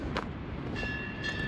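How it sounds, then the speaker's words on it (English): A train runs along the north side of Bridlington's seafront by the Victorian promenade, a steady distant rumble with light wind noise throughout and faint high squeals. "Oh, sounds like a train."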